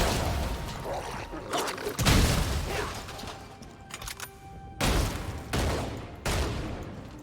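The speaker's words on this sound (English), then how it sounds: "let's get more monsters and try to shoot them with some shotties for now" Shotgun blasts aimed at monsters in the Lost Ark video game: several heavy, booming shots spaced a second or two apart, each with a loud crack and ringing tail, amid clattering combat effects.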